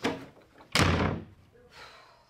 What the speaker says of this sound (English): Always slamming doors in men's faces.